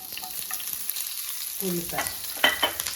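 Chopped onion fries in about two spoons of oil for a chicken liver fry, a soft, steady sizzle heard close, with a few spatula stirs and scrapes against the pan and no talk.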